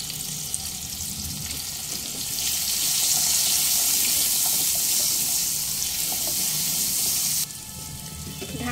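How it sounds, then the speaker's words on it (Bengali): Potato pieces with salt and turmeric frying in a covered pan, giving a steady, close hiss of sizzling oil that swells and then holds level before dropping off abruptly near the end. "ঢাকা দিয়ে প্রায় 4 থেকে 5 মিনিট হালকা লালচে করে ভেজে নেব"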